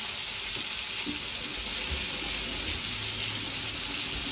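Chicken frying in a pan of oil with a little water added on a home stove, a steady close crackling sizzle throughout with occasional faint clinks.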